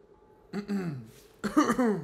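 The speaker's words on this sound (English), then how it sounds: "Pardon me, people. I got a bit of a cough." A person coughs and clears their throat in two short bursts, close up, with a quiet pause between.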